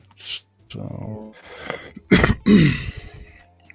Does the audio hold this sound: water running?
no